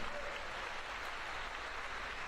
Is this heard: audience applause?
yes